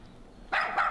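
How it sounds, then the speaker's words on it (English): Dog barking loudly close to a disc golf fairway, two sharp barks in quick succession over faint outdoor background, no talking. "Sorry about the loud dog right there."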